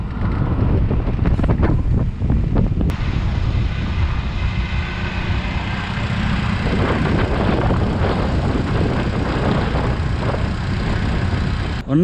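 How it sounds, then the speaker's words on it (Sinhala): Sea surf near a large sand dune at Kirinda, Sri Lanka, a steady broadband roar that runs through the whole stretch, heavily mixed with microphone wind buffeting and no voices. "මුහුද සද්දෙත් ඇහෙනවා"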